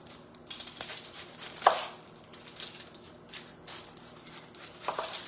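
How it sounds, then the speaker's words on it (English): A knife chopping a purple onion on a cutting board, a quiet run of irregular taps and short cuts, with one louder knock partway through. "that's how I like to cut up my onion"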